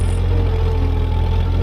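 A Ford 8N tractor engine runs steadily nearby in the snow, a loud, even low throb with a faint knocking pulse and no pauses or speech.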